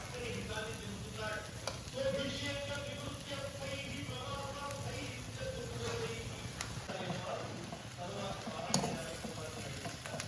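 Cooked rice is tossed and stirred with drumstick leaf powder in a pan on a lit stove, giving a soft continuous sizzle with scraping strokes while a person talks over it.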